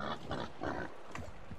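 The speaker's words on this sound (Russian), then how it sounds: "О, свинка." A pig grunts and oinks several times in the video game Metro Exodus, a string of short, fairly faint snorts that repeat in a loose rhythm with no talk over them.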